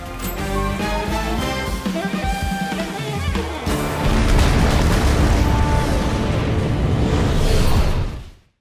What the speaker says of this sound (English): shooting it to Splinter, and detonating the cluster bombs right above him.